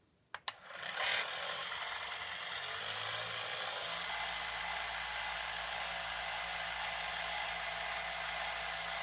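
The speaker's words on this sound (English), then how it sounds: "You're hearing the Gakken Premium Gramophone as it sounds without any lubricant from the factory" An unlubricated Gakken Premium Gramophone, a small toy record player, starts with a few clicks, then runs with a loud, steady, grinding mechanical whir of ungreased gears close up.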